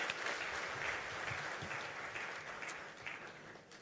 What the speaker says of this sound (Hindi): तो एक बार अपने कंट्री के लिए जोरदार ताली है.